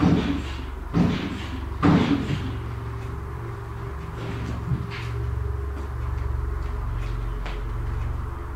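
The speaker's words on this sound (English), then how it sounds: "Sounds like a door or something." Door bangs in a reported haunting: two or three sharp thuds in the first two seconds, then faint scattered knocks over a low continuous hum.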